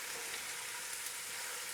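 Roughly chopped peppers fry with goulash meat over lowered heat, giving a soft, even sizzle, fairly faint and steady throughout, with no voices.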